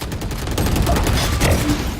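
Rapid gunfire in the video game Valorant, a loud dense burst of repeated shots over about two seconds, close and continuous.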